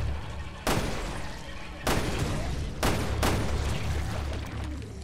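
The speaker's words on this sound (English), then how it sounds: "How many shots did I just waste missing?" Gunshots in the survival horror game Resident Evil 2, four loud sharp blasts spaced about a second apart, each ringing out over a low steady background.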